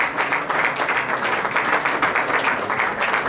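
Applause from an audience at a branch chairman investiture ceremony, rising after a speech; steady, dense clapping from a full room fills the whole stretch without let-up.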